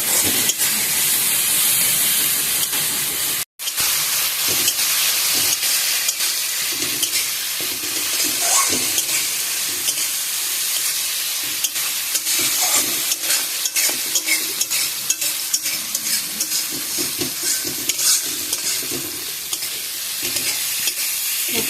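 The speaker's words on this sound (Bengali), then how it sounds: "জল দিয়ে গুলিয়ে এবার মশলাটা খুব ভালো করে কষিয়ে নেব।" Spice paste (masala) for a hilsa curry with potato and brinjal, loosened with water and stir-fried, sizzles steadily and loudly with frequent scraping stir strokes throughout, broken by a momentary gap near the start.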